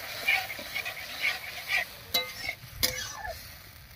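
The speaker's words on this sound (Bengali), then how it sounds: "এবার খুব ভালো করে কষিয়ে নেব।" Spice paste with ground masala water being sautéed and stirred in a pan, a soft sizzle under repeated scraping strokes and a couple of sharp clinks of the spoon against the metal, close and quiet.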